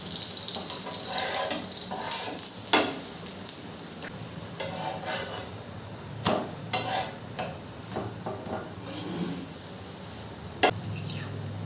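A chatu paratha fries in white oil on a pan, giving a steady close sizzle broken by repeated scraping and stirring sounds, with no one talking.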